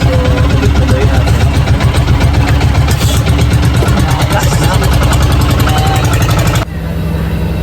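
Boat engine droning loudly and steadily with a rhythmic chugging pulse while heading toward Tulang Diot off Camotes Island, Cebu, cutting down abruptly near the end to a quieter idle.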